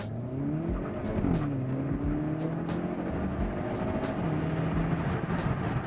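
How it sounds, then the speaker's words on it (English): A 2024 Hyundai Elantra N in track mode squeals its tires while the engine roars steadily, with rising and falling pitch through corners. The sound is loud and continuous, with no talking. "I was burning some rubber catching up to that guy in front of me"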